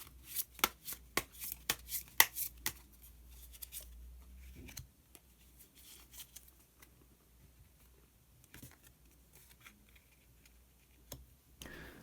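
Tarot cards being shuffled and drawn close by: soft, quiet flicks, taps and card slides in loose bursts over a very faint room background, with no talking.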